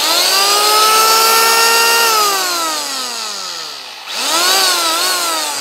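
A Hyundai P 900-82 Expert electric planer runs free and loud, a high motor whine that sags in pitch, dips near the end and then spins back up again.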